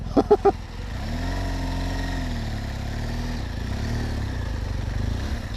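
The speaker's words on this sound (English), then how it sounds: "I'm giving it a little bit too much throttle going up this trail here." A BMW R1200GS Adventure motorcycle labors up an off-road trail, its engine droning steadily and close after a few sharp knocks at the start, holding a rough, even throttle note throughout.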